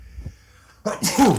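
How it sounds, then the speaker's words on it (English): A single person's sneeze, close and loud: a quiet breath in followed by a sharp burst that tails off, in a quiet room. "I normally don't sneeze into my hand."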